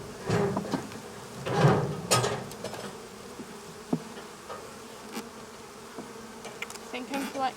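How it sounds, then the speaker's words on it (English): Bees buzz around a hive entrance as they bring in pollen, with close bursts of buzzing, light knocks and handling sounds scattered throughout. "So we've got the bees collecting some pollen here."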